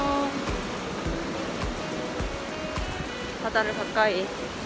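Rough sea waves crash against the rocks around Yongduam on the Jeju coast, a constant roaring surf with heavy low rumbles, while a person speaks over it.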